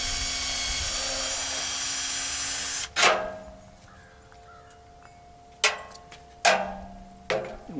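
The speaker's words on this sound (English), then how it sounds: "When we're drilling these ends, each yardstick's real flimsy, so we've got them clamped together." A drill whines steadily while boring through clamped wooden yardsticks, then stops with a thud, followed by several short sharp knocks and clatters of wood, close by with no talk.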